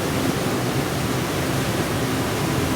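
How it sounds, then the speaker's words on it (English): Continuous roar of Whatcom Falls in the rainy season, dense and steady rushing water with no breaks, loud and close. "The falls in the rainy season were aptly named Noisy Water by the Lummi people."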